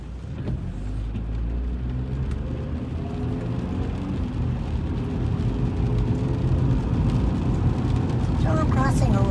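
A car cruising along a Washington highway, with a continuous low road and engine rumble and tire hiss, steady and close from inside the cabin throughout.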